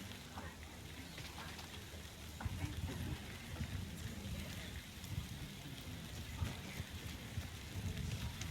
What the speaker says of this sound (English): Look at the water around in the rain.